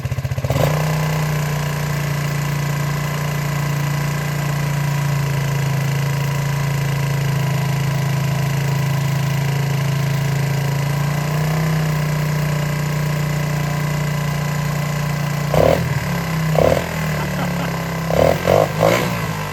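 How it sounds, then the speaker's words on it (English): A 1977 Honda XL100 motorcycle, freshly fueled with a cleaned carburetor, idles high and steady with a low thrumming putter, close by, followed by a few brief knocks and clatters near the end. "it's sitting here running. I'm actually pretty surprised, but it has a little bit of like a high idle issue."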